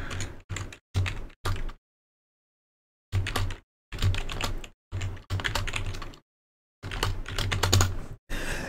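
Keys clatter on a computer keyboard as a password is entered, several short bursts of rapid close-up typing separated by silent pauses.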